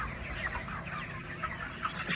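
A flock of broiler chickens on a poultry farm clucks continuously, a dense overlapping chorus of soft calls at moderate distance, with no voices.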